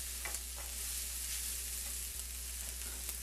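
Chopped onions sizzle steadily in a hot pan as they are stirred, a close, even hiss with a few faint clicks and no talking.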